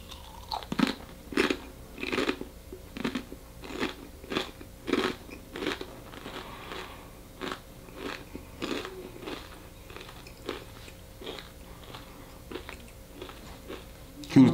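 Someone bites and chews the Paqui One Chip Challenge Carolina Reaper chip, close-up crisp crunches in an irregular rhythm that gradually soften and thin out over several seconds.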